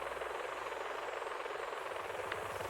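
In the video game GTA 5, a helicopter's rotor thrums steadily and loudly throughout, with a dense engine wash and rhythmic blade chop heard from inside the cabin.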